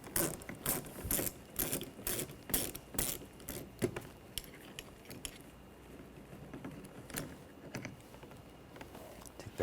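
A ratchet with a 7mm socket backs a screw out of a Ford Escape car door panel, giving a quick series of close, crisp ratcheting clicks that slow and thin out toward the end.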